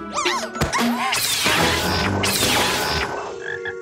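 Loud, raspy frog croaks up close, mixed with a few sharp knocks and clattering noises.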